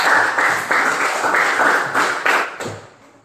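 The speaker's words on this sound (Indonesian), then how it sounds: "terima kasih sekali lagi berikan aplaus" A classroom of students applauds a classmate, a loud, close burst of hand clapping that holds steady for a few seconds with swelling pulses, then quickly fades away.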